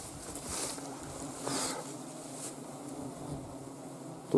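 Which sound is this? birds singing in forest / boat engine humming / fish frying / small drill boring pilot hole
boat engine humming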